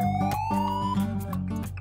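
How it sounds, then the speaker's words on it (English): A police car siren wails, rising and falling in pitch, loud and close, with a rhythmic electronic edge, playing alone without talk. "Police car, police car, police car."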